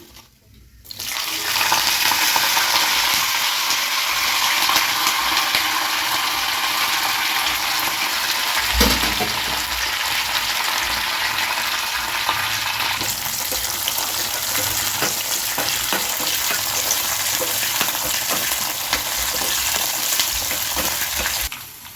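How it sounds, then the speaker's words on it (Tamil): Spices tempering in hot oil for kuzhambu in a home kitchen, giving a loud, steady sizzling hiss that starts abruptly and continues for about twenty seconds, with a brief clatter midway and no talk. "இப்போ தாளிச்சுக்கலாம்."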